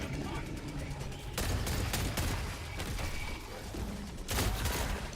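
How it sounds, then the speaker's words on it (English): A strafing run in the Helldivers 2 video game unleashes rapid, dense bursts of gunfire with heavy booming impacts. The barrage swells in waves across several seconds, loud and continuous, with a fresh burst near the end. "They know the strafing run's coming."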